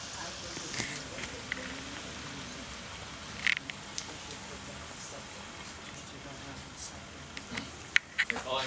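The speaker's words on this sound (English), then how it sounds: "You get ready to move, and raining like crazy." Steady rain falls outdoors on a morning of moving house, a constant soft hiss with occasional louder drips and taps on surfaces, while people talk over it.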